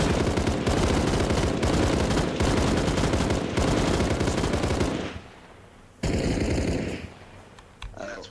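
Sustained automatic gunfire on a firing range in the military shooter Arma Reforger, a loud dense rattle of rapid shots for several seconds, a brief pause, then another long burst and a final short volley.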